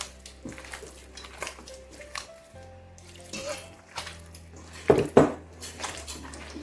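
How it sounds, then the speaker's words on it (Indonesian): Fish being stirred with water in a bowl to make pempek dough, with irregular utensil clinks and scrapes against the bowl and a louder pair of knocks near the end, over a faint musical background. "saat kita mengaduk ikan dengan air ini, boleh kita aduk sesuka kita ya, aduk aja sampai dia tercampur rata ya."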